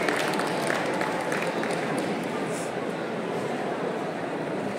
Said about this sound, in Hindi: तालियां बजा के इसका स्वागत कीजिए।